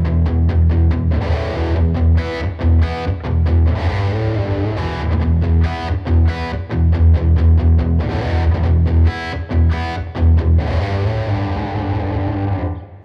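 Distorted electric guitar tears through a fast, bluesy riff full of quick picked notes and low chugging, loud and continuous with no talking.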